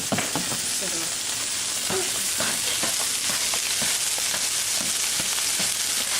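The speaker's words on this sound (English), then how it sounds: "sesame oil, that's very hot. We're going to add our scallions and garlic first" Scallions and garlic sizzle steadily in very hot sesame oil, a constant crackling hiss broken by soft stirring clatter, close and fairly loud.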